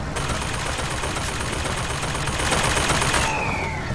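Continuous gunfire in BioShock Infinite, a dense unbroken barrage of shots that stays loud for the whole stretch, with a rising whine entering near the end.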